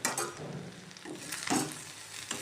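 Fish fries in a pan over a low flame, making a soft, steady sizzle with a few gentle scraping stirs, heard up close for a couple of seconds.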